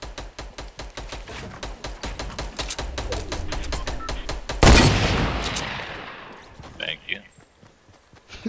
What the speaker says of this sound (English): I don't know where he's shooting me from, but he's shooting me.